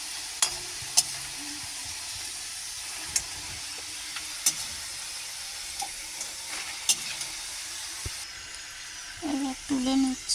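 Nimki pastry deep fries in oil with a steady low sizzle throughout, broken by a few sharp clicks and taps, and a voice speaks briefly near the end.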